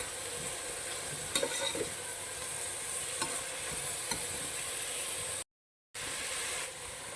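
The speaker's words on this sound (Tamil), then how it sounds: "இப்போ கட் பண்ணி வச்சுருக்கிற 4 தக்காளி உள்ளே போடுறோம்." Four chopped tomatoes are stirred into a frying pan of biryani masala, giving a loud, continuous close sizzle with occasional scraping stirs and a brief cut-out near the end.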